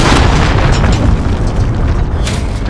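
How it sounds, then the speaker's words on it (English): A cruise missile exploding in Call of Duty Modern Warfare, a video game: a loud, sustained booming roar with heavy low rumble that fills the whole moment without pause. "Allied cruise missile away."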